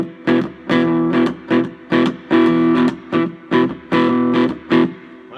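Cigar box guitar playing a blues riff that stays on the 1 chord, with distorted tone; loud, close chugging phrases in a steady repeating rhythm of short strummed bursts.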